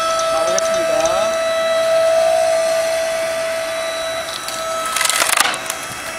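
A KM Grand hydraulic log splitter with a quiet electric motor works through a 30 cm firewood log: a steady motor whine runs throughout, and loud cracking and splintering wood bursts out near the end.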